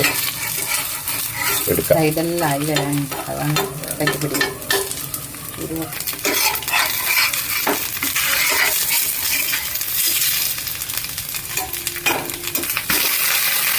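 An iron spatula scrapes and works a dosa on an iron pan, with repeated close metallic scrapes and clinks over a constant sizzle of oil, loud and busy throughout with no talking.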